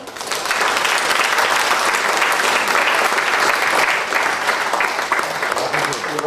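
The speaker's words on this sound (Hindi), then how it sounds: "इस शिविर को ऑर्गेनाइज करने में जितने लोग लगे हैं सबके लिए जोरदार ताली" At a camp session, an audience claps loudly for the organisers, with continuous dense applause filling the room at an even level from start to finish and a faint murmur of voices underneath.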